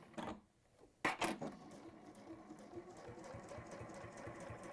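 A sewing machine stitches through quilt fabric in short bursts, its motor whirring with a rapid rhythmic needle chatter, close and fairly quiet, with a couple of sharper knocks near the start.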